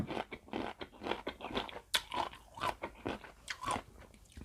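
Crisp bites and chewing of crunchy, old-style salt-pickled mango, close and loud, with a quick series of sharp crunches and wet chewing in an irregular rhythm and no talk.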